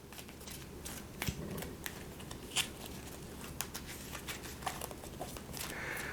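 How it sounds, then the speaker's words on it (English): A deck of playing cards from a Marvel Champions card game being shuffled close up, giving quiet, rapid riffling and snapping patter with a few sharper clicks throughout. "we'll give that a quick shuffle"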